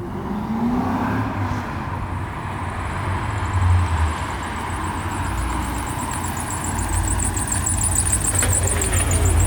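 A C5 Corvette drift car runs with a steady low engine drone heard from inside, rising slightly in loudness toward the end, with faint high whine and ambient noise over it.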